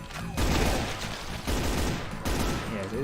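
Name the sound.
pistol gunfire in video game Brutal Doom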